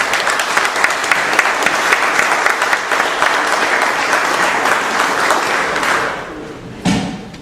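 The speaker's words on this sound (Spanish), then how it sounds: "Pido un aplauso, pues, para el maestro Martín Jiménez Arango." Audience applause for a speaker at an event on education and labour reform, sustained full clapping that fades out near the end, followed by a single thump.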